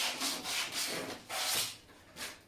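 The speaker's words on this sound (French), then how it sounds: "Un coup de ponçage, comme ça t'enlève aussi les petites saletés en même temps. Tu vois, là, je ponce avec du 120" Hand sanding of a PVC drain pipe with 120 grit sandpaper: rhythmic back-and-forth rasping strokes, about six passes in a couple of seconds, close and clear with no talk.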